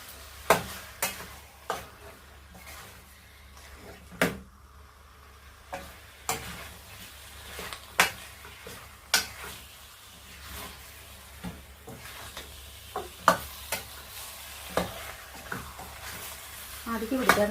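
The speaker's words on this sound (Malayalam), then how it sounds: "ഇതിൻ്റെ ഗ്രേവി എല്ലാം നമ്മൾ ഇതിലേക്ക് ഇട്ട് കൊടുക്കണം. എന്നിട്ട് നന്നായിട്ട് ഇളക്കി കൊടുക്കാം." Chicken curry gravy with green leaves being stirred in a pan, a spoon scraping and knocking against the metal in a steady series of sharp strokes over a low simmering sizzle.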